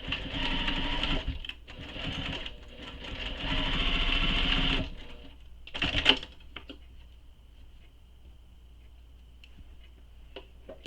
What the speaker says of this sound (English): we're going to sew this from edge to edge, so just along the side edge